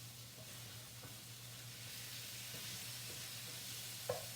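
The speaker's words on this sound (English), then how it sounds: "Any of the really brown pieces I'm going to bring back here in and mix them with the onions." Browned beef pieces being stirred with onions in a pan give a faint, steady sizzle, broken by a few soft scrapes of the utensil.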